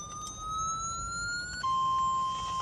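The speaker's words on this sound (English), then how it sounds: "That was a tornado siren for a second." An electronic warning siren heard during a live tornado outbreak broadcast, rising steady tones that step down to a lower pitch, loud and alone with no talk.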